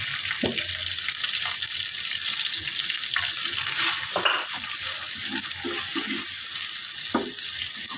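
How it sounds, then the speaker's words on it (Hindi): Onion tipped into a pan of frying cumin seeds for a potato snack, giving a loud, steady hiss of sizzling with intermittent soft stirring knocks and crackles. "ये देखिए, अब मैं इसमें प्याज डाल दूँगी।"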